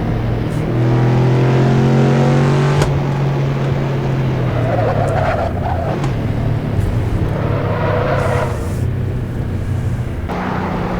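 V8 car engine and exhaust in the racing game Assetto Corsa, a steady loud cruising drone with harmonic tones that dip after a few seconds, continuous throughout with no talk.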